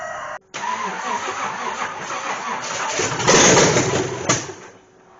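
A car engine with a rebuilt four-barrel Holley carburetor and timing set too far advanced cranks and catches, then runs roughly and loud for a few seconds before the sound quickly dies away.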